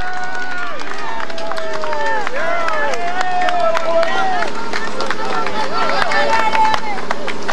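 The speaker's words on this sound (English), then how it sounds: "Listen to the crowd." Roadside crowd at a Tour de France mountain climb, loud continuous cheering, shouting and whistling close by, with claps and horn-like tones rising and falling throughout.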